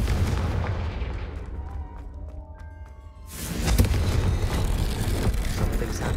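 A Confringo fire spell explodes in Hogwarts Legacy, a loud booming blast that swells after a quieter stretch of tonal game music, with rumbling crackle continuing behind it.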